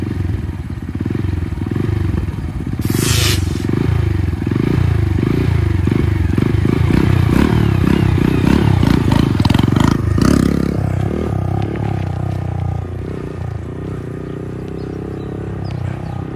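A Honda Grom motorcycle engine idles and revs up steadily at mid revs as the clutch is let out slowly and the bike pulls away, with brief clattering noises partway through; close and continuous.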